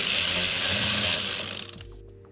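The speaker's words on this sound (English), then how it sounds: "And then we'll mount that 8mm screw that we took off." A power driver whirs an 8mm screw into an accessory panel on a Toyota Tacoma during a heads-up display install: a loud buzzing rattle for about a second and a half, then stopping with a few faint clicks.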